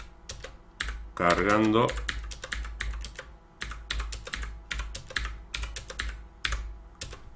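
Typing on a computer keyboard while loading matrix elements, with steady clicky keystrokes in irregular bursts throughout and a brief spoken word partway through.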